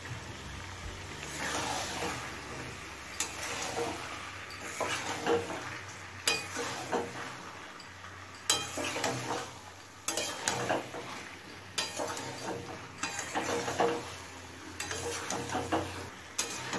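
Fried potatoes stirred into a chicken liver and stomach curry, steady sizzling in the pan with repeated spoon scrapes and knocks against the pot, no one talking.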